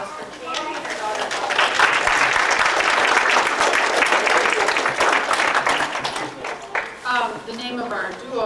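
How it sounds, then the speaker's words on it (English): A theater audience gives a warm round of applause for a singing mother and daughter, full dense clapping that swells and then thins toward the end, with voices audible over it. "give us a warm round of applause for Candy and her daughter"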